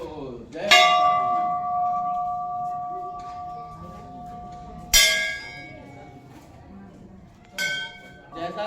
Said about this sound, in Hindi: बहुत सारी घंटियां भक्तों के द्वारा यहाँ पर बांधी गई हैं और ये मुख्य मंदिर है।